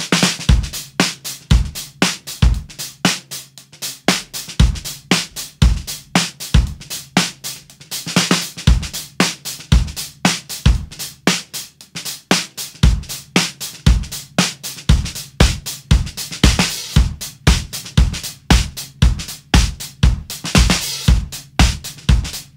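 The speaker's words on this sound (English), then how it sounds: "You could lower the tension and you'd get something like this." Piccolo snare drum tuned low with slackened head tension, struck in a steady groove of loud, dry, fat hits with ringing decay, played alone and close throughout.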